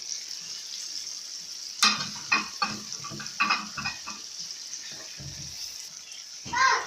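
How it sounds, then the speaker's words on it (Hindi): Chicken korma with red chilli, coriander powder and salt fries in a pot, with a low steady sizzle and bursts of stirring scrapes and clatter, close by, while a voice speaks at times. "2 मिनट हम इसको और फ्राई कर लेते हैं"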